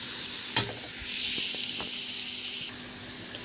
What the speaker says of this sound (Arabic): هنفضل نقلب فيه لحد ما ياخد اللون الحلو الجميل